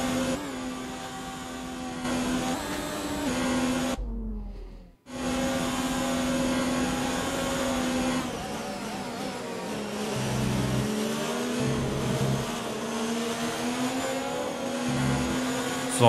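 A Formula 1 race car engine in the F1 2019 video game, a steady high-pitched whine that briefly drops out, then returns with shifting pitch as the car downshifts and accelerates.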